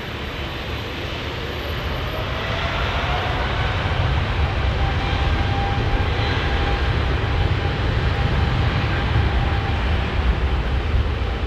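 A loud, steady jet engine roar at London Heathrow Airport, with a broad low rumble that swells slightly and holds continuously, no voices present.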